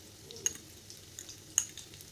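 Egg-coated potato kababs slipped into hot oil, giving a faint, steady frying sizzle broken by a couple of soft, sharp clicks.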